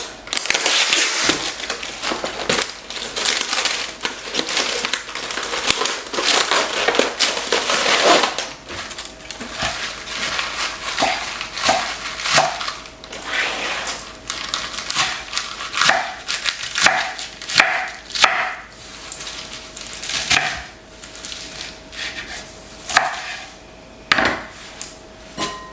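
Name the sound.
knife cutting up lettuce and slicing cucumber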